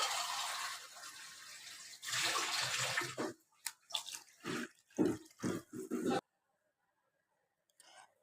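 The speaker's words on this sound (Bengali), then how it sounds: "ঝোলের পানিটা আমি দিয়ে দিলাম আমার পরিমাণ মতো" Water pours steadily into a pot of koi fish curry broth with gati kochu, a continuous rush in two bursts, followed by clattering and splashing as it settles, then near silence.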